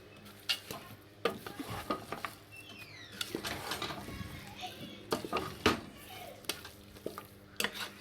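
Chopped carrot halwa stirred in a pan, with irregular scrapes and knocks of the spoon over a soft sizzle. Children's voices and chatter sound in the background.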